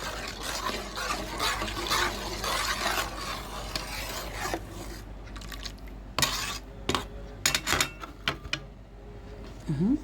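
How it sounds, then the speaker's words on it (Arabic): A baking powder mixture being stirred in a bowl for a layered rakak pastry tray, with scraping and clinking of utensil against the dish. Sharp clicks and taps appear toward the end, with no talk. "هنخلط بقى كل الكلام الجميل ده كده في بعضه"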